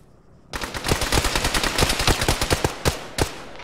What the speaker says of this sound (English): Still taking fire from the tower.